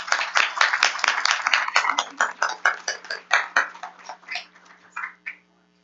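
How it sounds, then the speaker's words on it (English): A room of parents and staff at a school board meeting claps for second graders, a fairly close spatter of handclaps that pulses unevenly and thins out before stopping. "If you could just give them another round of applause."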